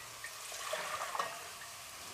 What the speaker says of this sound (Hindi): सबसे पहले एक देचकी लेंगे और उसमें हम क्या करेंगे, पानी डाल देंगे।